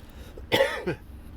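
A single harsh cough with a shorter follow-up hack, close and clear against a quiet background, no talking.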